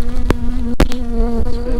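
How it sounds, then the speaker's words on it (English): Bees buzz steadily at a hive in an outdoor beeyard, a close, continuous insect drone with shifting pitch and a couple of brief louder passes near the listener. "bees are working really hard"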